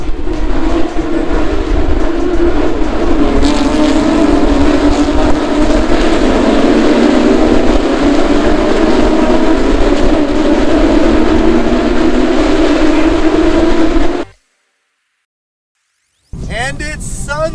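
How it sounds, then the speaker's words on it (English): Porsche Carrera Cup race cars roar past at the Montreal circuit during a race, a loud, sustained engine drone heard from trackside that cuts off abruptly before a voice speaks at the end. "Et c'est parti pour la course Porsche Carrera Cup."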